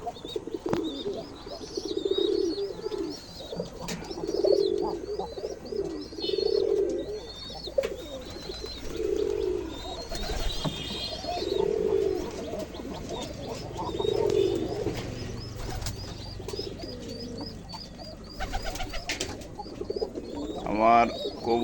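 Pet pigeons coo close by in a repeated, rhythmic series of soft, throaty calls that come every couple of seconds, with faint background noise in between.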